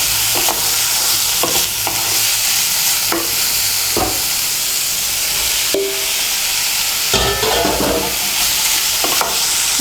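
Radish greens and fried eggplant being stir-fried together in a pan, a steady loud sizzle broken by scattered spatula scrapes and clanks, with no talking.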